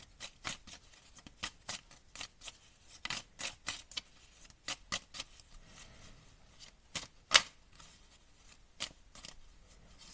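Playing cards are shuffled by hand, with the right hand doing the work: a string of crisp, close riffling bursts in an uneven rhythm, one sharper snap near the middle, and no talking.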